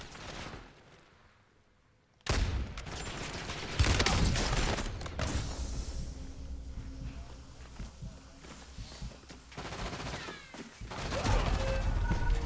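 Video game gunfire breaks out after a quiet start, with sharp bursts and rapid volleys, footstep-like scuffs and clatter filling the mix at fairly loud, close range.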